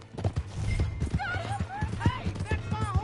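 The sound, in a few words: horse galloping in the video game Red Dead Redemption 2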